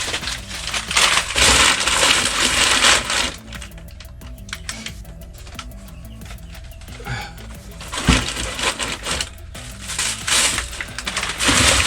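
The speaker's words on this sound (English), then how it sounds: "Some packing paper." Packing paper is crumpled and stuffed into a 16 by 12 by 8 inch shipping box, giving loud, close, continuous crackling and rustling in long bursts with a quieter stretch in the middle.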